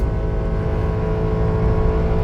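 A 2017 Honda CR-V with a 2.4-litre engine and automatic gearbox, in sport mode, climbs uphill into a bend, its engine holding a steady, loud drone heard from inside the cabin.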